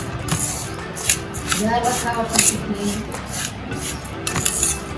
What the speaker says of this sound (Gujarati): બધામાં જળદર ભળી જાય તે રીતના મિક્સ કરી લેશું